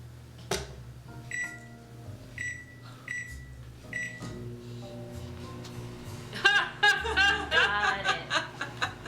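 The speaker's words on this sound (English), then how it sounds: "We have put the Dawn Guard in the microwave." A microwave oven runs with a low steady hum, punctuated by several short electronic beeps and a door clunk, followed by laughter and chuckling from people nearby.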